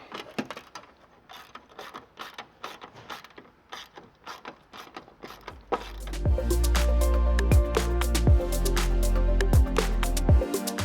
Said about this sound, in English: So we just tighten up these final bolts here.